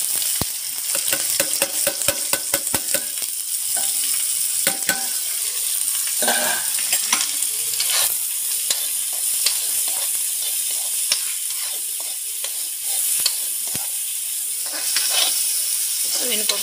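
Onions frying in mustard oil in a pan, stirred continuously, give a loud, steady sizzle with frequent scraping and clinks of a spoon close by, no talking.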